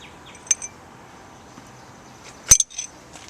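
A metal spoon clinks sharply against a container as a spoonful of jelly is added for homemade ice cream, two light taps early, then a louder cluster of clinks later, with quiet background between.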